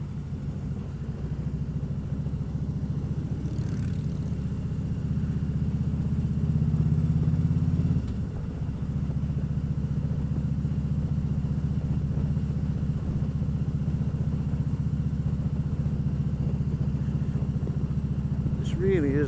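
A Harley-Davidson Road King Classic motorcycle cruises along with a steady, loud low engine rumble that holds throughout, swelling briefly before easing back to an even drone.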